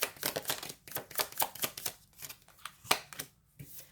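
Tarot cards being shuffled and drawn give a quick run of crisp riffling flicks and snaps, close and fairly quiet, in uneven bursts with short pauses.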